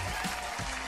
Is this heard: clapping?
yes